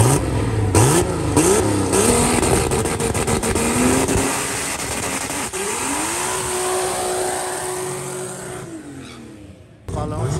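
A drag racing car launches down the strip at Velopark, its loud engine revving in quick gear-change steps, then holding a long rising howl as it pulls away. Voices of nearby spectators can be heard over the engine at points.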